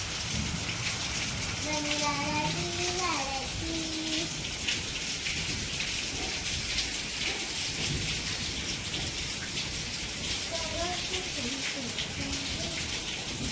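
Steady, dense rain hisses continuously, with a voice speaking now and then underneath the downpour.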